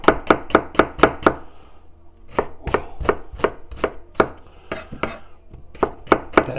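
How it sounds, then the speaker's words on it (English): A sharp knife finely chopping an onion on a board, rapid crisp strikes in bursts of several quick chops separated by short pauses, close and clear with no talking. "just basically chop up an onion. Yeah, just try and make it as fine as you can do though"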